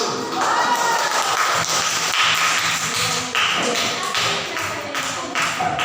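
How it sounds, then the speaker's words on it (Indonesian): Students in a classroom clap for the first presenting group, a brisk burst of many hands tapping together that carries on for several seconds before fading. "Tepuk tangan untuk nomor 1."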